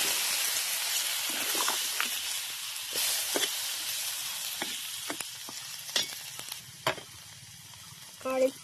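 Potato curry sizzling and hissing in a pan after hot water is poured in, a dense steady frying crackle with sharp pops and spoon clinks, close and moderately loud.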